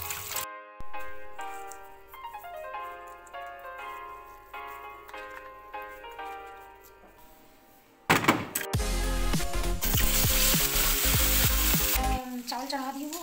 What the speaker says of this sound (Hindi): चावल चढ़ा दी हूँ और मछली फ्राई हो रहा है